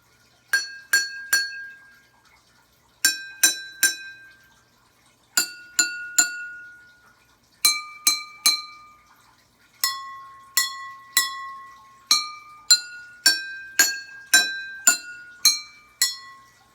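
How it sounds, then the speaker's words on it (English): Water-filled glasses, each holding a different amount from a little to a lot, are clinked in clear ringing strikes, grouped in quick runs of three to five taps with short pauses, the pitches shifting between groups. "these glasses have a different amount of water in it, from a little to a lot"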